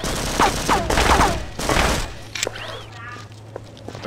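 Gunfire in the Half-Life mod Poke646: a burst of several loud, close game shots in quick succession during the first two seconds, followed by quieter game effects and a faint background hum.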